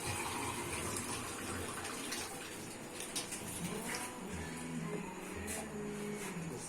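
Water pours steadily into a fish batter of flour in a home kitchen during a Pakistani breakfast cookout, a continuous close splashing gush with some faint background murmur.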